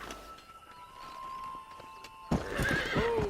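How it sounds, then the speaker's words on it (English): Hooves clop quietly, then a horse in the video game Red Dead Redemption rears and lets out a loud, close whinny over heavy stamping hooves. "How'd you make the horse rear?"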